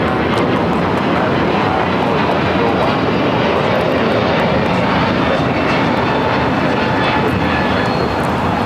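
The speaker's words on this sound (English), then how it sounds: "This is an A321neo with United Flight 2113 taking off to Chicago." A United Airbus A321neo takes off at LAX, its engines giving a loud, steady broadband roar that holds for about nine seconds with no pause.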